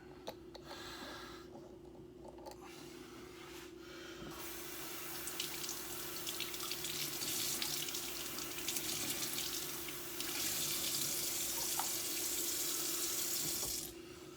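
Cold tap water runs steadily into a sink as baby carrots are rinsed, a continuous close splashing hiss that grows louder partway through, with no talking.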